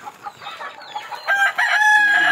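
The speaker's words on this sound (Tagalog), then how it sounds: "Ihagis-hagis lang ng mais, tapos yung mga manok tutukain sa lupa" Native chickens cluck and call close by as they peck scattered corn off the ground, with a rooster-like crowing note rising toward the end.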